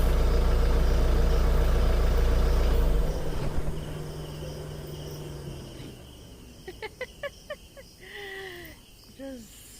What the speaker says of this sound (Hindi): सिर्फ झिंगूर की आवाजें आ रही हैं।